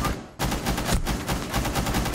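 Rapid automatic gunfire in the shooter game Rainbow Six Siege, a dense, loud run of shots in quick regular rhythm after a brief pause at the start, close and continuous.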